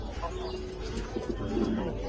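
A pair of racer pigeons of a good bloodline, a male and a female, giving soft, low cooing calls that are faint and close by, with no talk over them.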